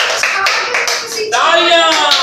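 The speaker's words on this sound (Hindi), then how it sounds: "तालियां।" A studio audience on a television show claps in bursts while a voice talks or chants melodically over it, the sharp hand strikes standing out beneath the louder speech.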